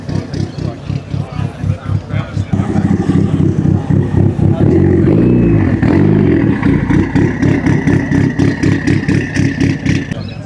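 A Mazda NB MX-5 at a JDM classics car meet, its engine running close by with a rhythmic lumpy pulse, swelling louder in the middle as it's blipped, then settling back to a steady idle.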